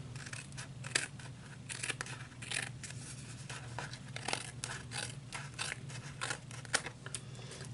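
Paper being trimmed for a handmade card, with light repeated snipping and crinkling over a steady low background hum, faint and close, no voices.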